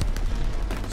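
A fighter plane's strafing run in Call of Duty: WWII, a brief loud burst of rapid gunfire with booming impacts, dense and close.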